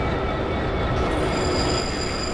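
Mumbai local trains rumble past each other on the Churchgate–Goregaon slow line near Bandra, a loud continuous roar of wheels and carriages with high squealing tones, close by and without voices.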